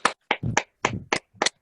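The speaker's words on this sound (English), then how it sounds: "Can we unmute and give them a round of applause?" A few participants in an online video meeting clap after unmuting, giving several scattered bursts of hand claps that are sparse and uneven, close to the microphone, with no voices in between.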